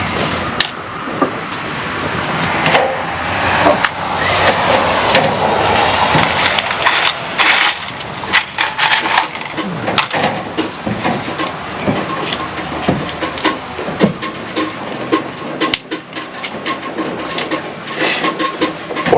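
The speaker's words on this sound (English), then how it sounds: "So now I'm going to start getting these cut and screwed together" Wood pieces being cut and screwed together for a chicken brooder box: loud, grinding, buzzing power-tool noise with a continuous cutting roar early on, then choppy mechanical bursts and clatter, close by.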